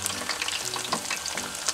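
Praying mantises and grasshoppers deep-fry in hot oil, giving a continuous, crackling sizzle with scattered pops, close and steady throughout.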